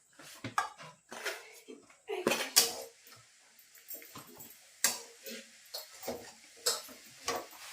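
Dry chun flour being roasted and stirred in a pan in a village kitchen, with a series of sharp scraping and clinking knocks of a spoon against the pan, irregular and close, with brief pauses between strokes.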